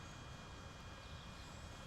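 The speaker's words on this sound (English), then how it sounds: "I hear the drone." A drone flying overhead during a July 4th outing, giving a steady, continuous broadband whir with a faint high tonal whine, fairly quiet and unbroken throughout, with no talking.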